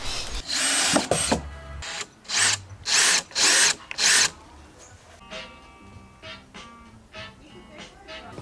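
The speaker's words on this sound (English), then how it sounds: "we just drilled them into each length side of the garden beds" Power drill driving screws into the sides of a wooden garden bed: a run of short whirring bursts, four or five close together, with people talking softly around them and light clattering afterwards.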